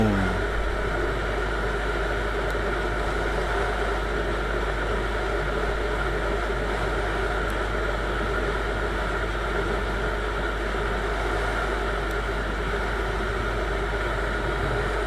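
A Viper 200 motorcycle engine runs steadily at full throttle in a higher gear, a constant loud drone with a low hum and little change in pitch, heard from the rider's position with no talking.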